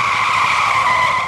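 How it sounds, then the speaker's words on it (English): A Porsche's tires screech in one sustained, loud squeal as the car skids to a stop, a steady high whine with no other sounds beside it. "The Porsche screeched to a stop"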